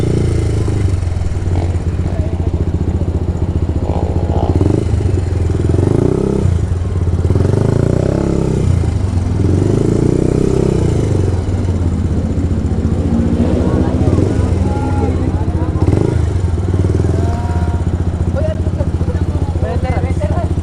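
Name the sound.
motorcycle engine, loud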